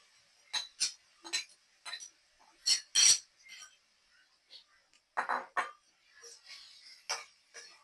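Metal spoon clinking against a pan while boiled beetroot is stirred in for beetroot poriyal, a series of sharp, close taps in irregular bursts with quiet gaps between.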